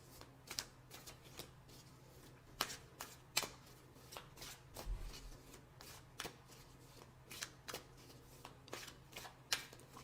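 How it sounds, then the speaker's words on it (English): Tarot cards being shuffled by hand: a quick run of sharp riffling flicks and soft slaps at irregular intervals, close and fairly quiet, with no talking. "Now let's pick two cards for guidance."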